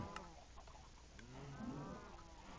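Minecraft cattle moo from a cow farm in the DW20 modpack, a couple of brief, fairly faint in-game lowing calls with soft game ambience behind them.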